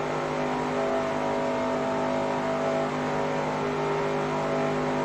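Race cars in an ARCA race in the NASCAR Racing 2003 video game, a loud continuous engine drone holding a steady, tonal pitch with no break, no voices present.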